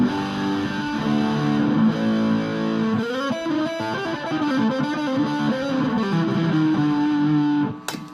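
Squier Telecaster Deluxe electric guitar played on its neck pickup with a distorted, effects-laden tone, sustained chords and melodic notes ringing loudly and continuously alone before cutting off abruptly near the end.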